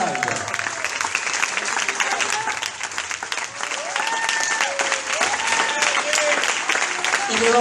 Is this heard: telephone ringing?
no